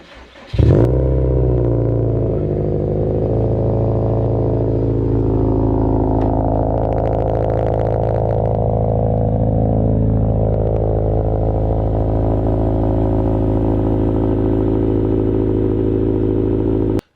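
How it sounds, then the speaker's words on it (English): A Subaru engine cold-starting in winter: a sharp crank catches and settles into a loud, steady, slightly uneven idle with a faint rising whine, running alone and close by until it cuts abruptly. "let's see what the cold start sounds like here"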